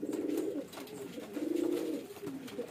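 A medium-sized fancy male pigeon coos close by in soft, low, throaty rolls. The coos come in two or three rising and falling phrases, with no voices.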